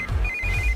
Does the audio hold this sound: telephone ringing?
yes